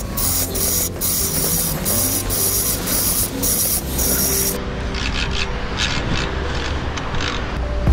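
Strap of an Atlantic boat trailer winch being unwound, giving a loud, close, continuous ratcheting rasp with a rhythmic clicking pattern, the harsh scraping easing partway through while the winding noise carries on.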